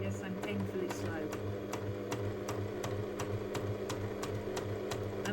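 A sewing machine slowly stitches a 1/8 inch seam on bias-cut fabric: a steady, close motor hum with regular light needle ticks running the whole time, and a voice present at moments.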